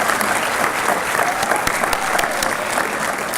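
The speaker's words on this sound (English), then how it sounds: "Please give yourselves, first and foremost, an excited round of applause that you deserve for all the work you've done to get to this point." Graduates at a fall college commencement in 2018 applaud themselves in a large hall, a full, dense wash of clapping hands at steady strength with a few sharper claps standing out, continuous throughout.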